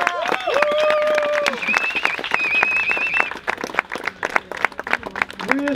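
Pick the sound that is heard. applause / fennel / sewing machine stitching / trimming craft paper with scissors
applause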